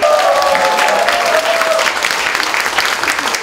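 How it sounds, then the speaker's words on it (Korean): A studio audience at a Korean talk show gives loud, full applause as a well-known dog trainer comes on as guest. A brief voice shows over the start, then the dense clapping continues on its own. "여러분 큰 박수로 맞이해주세요"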